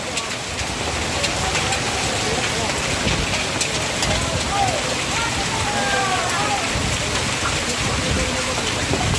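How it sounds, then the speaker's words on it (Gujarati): Heavy rain mixed with large hailstones pours down steadily in Botad, a dense continuous patter and clatter on a hard surface that fills the whole stretch. "બરફ પડે નકરું પાણી કરતા બરફ જાજો પડે"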